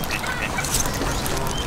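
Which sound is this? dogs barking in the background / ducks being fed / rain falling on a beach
ducks being fed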